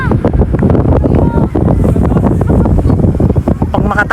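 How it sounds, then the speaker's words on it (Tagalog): Strong wind roars and buffets a microphone outdoors near trees, a dense, steady, loud rumble with gusty fluctuations that fill the whole stretch. "lakas ng hangin"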